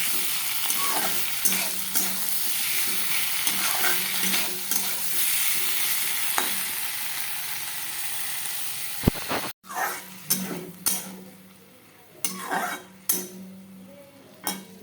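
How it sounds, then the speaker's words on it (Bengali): Koi fish frying in a pan for a spiced curry sizzles in a dense, steady hiss. Near the end, clinks and scrapes of stirring break through, and the hiss eases. "মাছ সব ভাজা হয়ে গেছে দেখো।"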